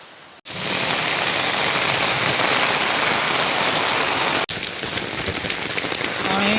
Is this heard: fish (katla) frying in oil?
no